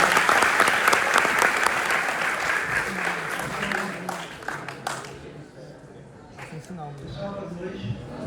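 Applause from an audience at an evening event in Brazil, a dense roll of many hands clapping that builds loud then thins out, with a few voices and some speech rising beneath it near the end.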